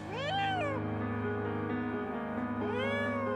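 A cat trapped between two solid concrete walls meows loudly and close up, two drawn-out plaintive cries separated by a pause, with no talking.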